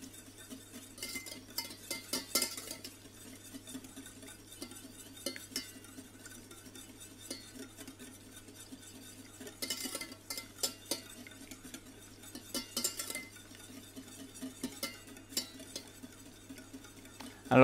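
Caramel glaze heats in a saucepan while a utensil stirs and clinks against the pan in faint, scattered scrapes and taps, with a low steady hum underneath.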